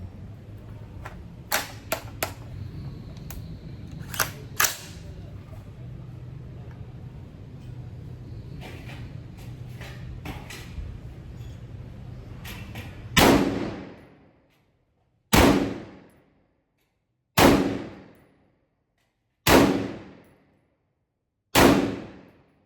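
A KRAL Arms KR 556 rifle fired at a range, with five loud, sharp single shots spaced about two seconds apart, each trailing off in a brief echo, after scattered handling clicks over low background rumble.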